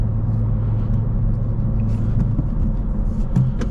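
A 2024 Honda Civic Si with a manual gearbox pulls away smoothly in third gear at low speed, its engine a steady close low rumble and drone beneath road noise.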